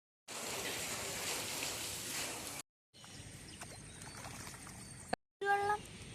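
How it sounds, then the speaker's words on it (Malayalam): Heavy rain pours down in a steady, loud broadband hiss for a couple of seconds, then continues more softly after a short break, with a brief separate sound near the end. "ഭയങ്കര മഴ കേട്ടാ"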